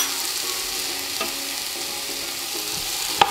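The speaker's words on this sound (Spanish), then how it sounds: "Y vamos a esperar que esto se sofría" Chopped onion, tomato and ground garlic sizzle and fry steadily in a pan as the base for a Honduran coconut crab soup, with a soft stir and a brief clink of a utensil near the end.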